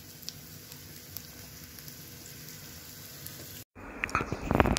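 Chopped garlic, about twelve cloves, frying in oil in a pan for a tempering gives a soft steady sizzle, then a brief cut and a louder, crackling burst near the end.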